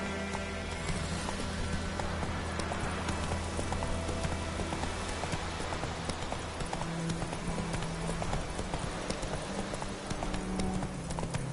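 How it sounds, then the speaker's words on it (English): Horse hooves clip-clop steadily in The Witcher 3 video game, a continuous rhythmic trot of close, moderately loud hoofbeats over game ambience. "Whoa there, Roach."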